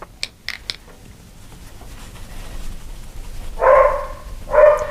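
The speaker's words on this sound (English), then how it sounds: "Can you hear the dog barking?" A single dog barks indoors, two loud sharp barks near the end following some faint tapping and clicks in a quiet room.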